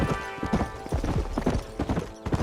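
Horse hooves clip-clopping at a steady gallop in the Red Dead Redemption video game, rhythmic thuds close up under a faint musical bed.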